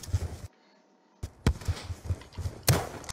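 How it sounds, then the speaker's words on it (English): Grenade launcher firing in a three-way multiplayer shooter game: a few dull thumps and sharp bursts, the loudest around the middle and near the end, against busy game noise with a brief silent gap. "Oh yeah, I have a grenade launcher."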